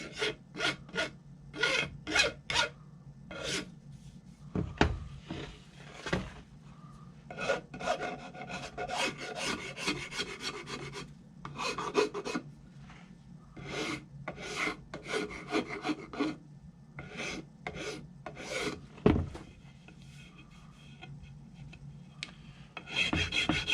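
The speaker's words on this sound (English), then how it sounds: "so I'll probably go through there with some sandpaper" Hand sanding of a molded composite part with sandpaper, heard as repeated close scratchy rasping strokes in bursts of varying length, separated by brief pauses and an occasional soft knock.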